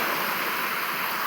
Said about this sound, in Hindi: झरना अछि हमर पछे